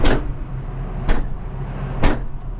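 A door on a work vehicle bangs shut three times in a row, sharp close knocks spaced about a second apart over a low steady engine rumble.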